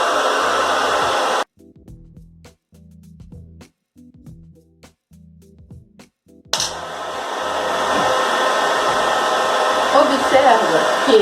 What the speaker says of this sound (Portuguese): fonte de calor, que por um acaso pode ser um secador, né? Vamos usar uma utilidade para esse secador.